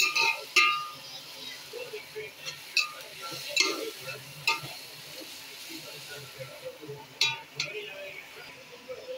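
Spoon clinking and scraping against a pot while chicken biryani ingredients are stirred and mixed, with irregular metallic taps over a bed of soft stirring noise and a person talking.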